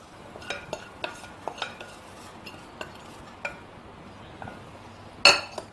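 Coriander is stirred into paniyaram batter, a spoon tapping and scraping against the bowl in sparse, quiet, close clinks, ending with one sharper knock.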